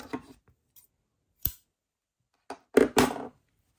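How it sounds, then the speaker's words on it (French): Scissors snip crochet yarn at close range, giving a few sharp, quiet cuts and clicks separated by silence, with a cluster of snips near the end and no talking. "une maille en l'air et on coupe"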